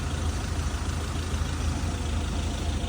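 Low steady rumble of an idling tractor engine nearby, constant and unbroken for a few seconds, with no voices.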